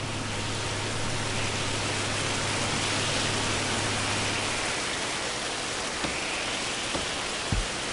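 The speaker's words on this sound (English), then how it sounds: "there's outdoor flooding going on because of the rain" Steady rain hisses over outdoor flooding in the prison-building game Prison Architect, a dense, even wash of noise with a faint low hum early on and a couple of soft knocks near the end.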